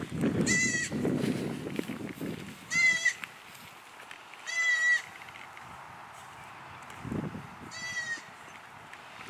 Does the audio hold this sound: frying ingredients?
no